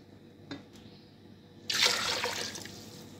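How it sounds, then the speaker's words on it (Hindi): Chicken stock for Punjabi pulao is poured into a pot, starting as a sudden close splash and settling into a steady gurgling flow after a faint clink. "तो हम 4 कप उसमें यखनी ऐड करेंगे"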